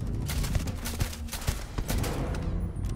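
Turret gunfire in the Starfield video game, rapid repeated shots and thuds in a dense, loud, busy combat mix without speech.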